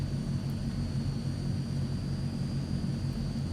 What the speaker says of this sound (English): So we'll get ourselves taxied out here.